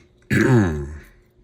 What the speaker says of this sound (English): So if you hear me constantly clearing my throat and sniffling